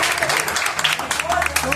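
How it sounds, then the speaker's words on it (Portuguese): A Pentecostal church congregation claps and cheers during an anniversary celebration service, broad steady applause filling the room, with voices and musical tones mixed in underneath. "fique à vontade em aplaudir, em glorificar"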